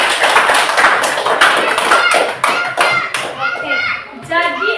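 Children in a classroom clap for a classmate, a quick burst of irregular, close handclaps lasting a few seconds before it thins out and young voices chatter.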